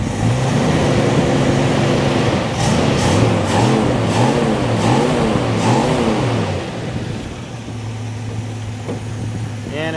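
A truck engine at the Carlisle Truck Nationals revs repeatedly in quick rising and falling bursts, loud and close, then settles back to a steady idle drone while a faint hiss of intake air runs underneath.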